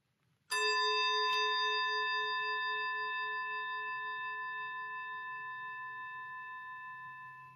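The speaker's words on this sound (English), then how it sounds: "after I ring the bell, to enter into a time of prayer" A single bell struck once to open prayer in a Sunday worship service, a clear ringing tone that sustains and slowly fades over several seconds with no talk.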